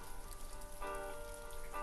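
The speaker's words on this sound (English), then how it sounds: "The forecast has called for rain all weekend long." Steady rain patters on a garden outside on a wet day, a soft continuous hiss of drops on surfaces, fairly faint and unbroken, with no voices.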